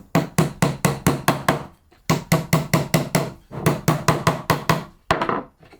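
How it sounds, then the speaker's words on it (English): A hammer drives nails diagonally into a wooden beehive frame held at an angle, three runs of quick, even, sharp knocks with brief pauses between them, close and loud. "you have to kind of hold the frame at an angle and hammer them in"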